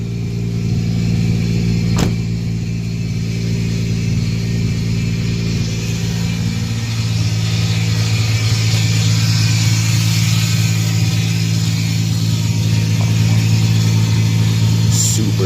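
Nissan 350Z with a VQ35 V6 running steadily after a misfire repair, a continuous mid-pitched engine hum with a slight rise partway, close and loud throughout with no talk.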